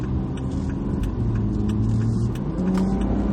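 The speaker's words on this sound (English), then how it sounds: "I'm going to get into it and see what this twin charged motor can do for me" A 2016 Volvo XC60 T6 R Design's twin-charged engine pulls hard under acceleration, a loud, steady rumbling drone from inside the cabin with rising tonal whine.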